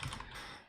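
Keys clatter briefly on a computer keyboard during a coding session, a short quiet burst of typing with no voices.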